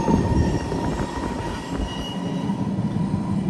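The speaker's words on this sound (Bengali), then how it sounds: "আমাদের গাড়ি সুইজারল্যান্ড থেকে ট্রেন নিয়ে যেতেছে" A train carrying cars rolls through Switzerland, giving a steady, close rumble of rail wagons with low mechanical roar and faint wheel noise throughout, no voices heard.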